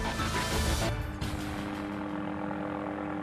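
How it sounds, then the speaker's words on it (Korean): A helicopter arrives with a loud, dense roar and beating rotor, heavy at first, then easing into a steadier drone. "요란한 굉음과 함께 헬기가 한 대 등장했다"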